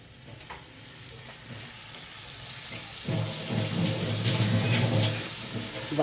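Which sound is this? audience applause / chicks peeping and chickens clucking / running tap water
running tap water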